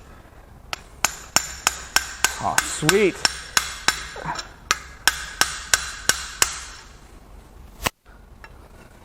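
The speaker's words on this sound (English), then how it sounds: "We're just kind of hammering on stuff now." Hammer blows on a blown GM 6.2L V8 engine block from an L9H Escalade/Denali during teardown: about fifteen sharp metallic strikes in a steady rhythm, close and loud, with a brief remark from a man partway through.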